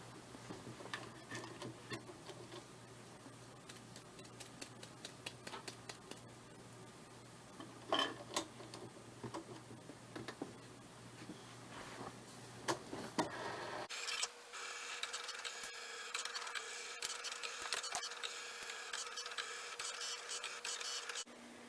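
Cricut cutting machine slicing regular premium vinyl at default pressure, a quiet mechanical whirring with soft ticking carriage movements, then a louder steady motor hum in the last stretch, with no talk.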